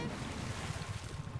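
Water waves lapping and washing in a jungle setting of the video game Planet of Lana, a steady, dense low rumble of surf with wind-like noise running continuously throughout, close and fairly loud with no voices.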